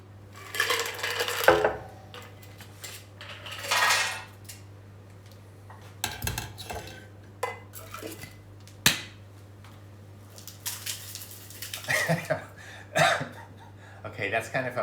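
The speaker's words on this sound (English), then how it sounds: "I want to pour half of this out, then get rid of the ice, and then give it another shake" A Clover Club cocktail is poured out, its ice dumped and the shaker rattled again, making scattered clinks, knocks and bursts of shaking separated by quiet gaps, with a person talking between them.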